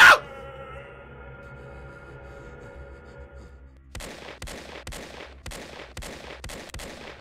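Gunfire in the indie horror game Damaged: a sharp shot opens, followed by a ringing, fading tone, then a rhythmic series of about six evenly spaced loud bursts, no talk over them.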